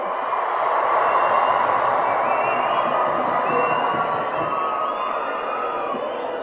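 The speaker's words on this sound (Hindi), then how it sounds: "जोर से ताली बजाइए।" A large audience at an outdoor political public meeting in Nirmal claps and cheers in a steady, dense wash of applause that holds at an even level throughout, with crowd noise mixed in and no clear voice on top.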